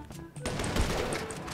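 Gunfire in the GTA 5 Online video game on PC, a rapid burst of shots that starts after a brief quiet moment and keeps up densely and loudly for over a second.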